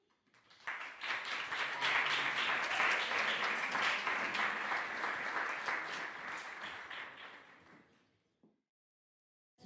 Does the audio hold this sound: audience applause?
yes